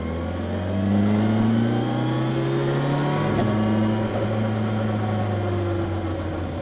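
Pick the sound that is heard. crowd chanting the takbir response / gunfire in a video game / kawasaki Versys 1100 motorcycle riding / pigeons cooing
kawasaki Versys 1100 motorcycle riding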